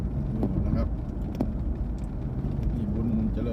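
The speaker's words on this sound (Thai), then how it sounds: "นี่ผมกำลังขับ" A car driving on a paved road near Khlong Luang, Pathum Thani, producing a steady low rumble of engine and tyres with faint talk inside the vehicle.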